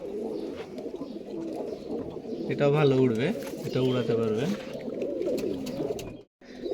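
Female Pakistani Teddy pigeons cooing in low, rolling, repeated phrases, close by, while someone talks in Bengali over and between the coos.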